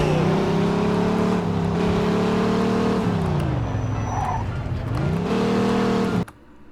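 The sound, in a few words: car driving in the video game Mafia II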